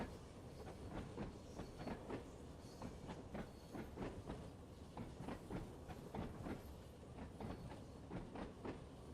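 A video game train rolls steadily along its rails in a continuous clickety-clack of wheel beats, with a soft hiss beneath, even and fairly quiet throughout with no voices.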